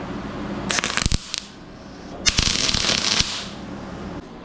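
Two crackling bursts of tack welding on a steel DIY seat frame adapter, each lasting about a second and a half with sharp popping spatter, separated by a quiet pause.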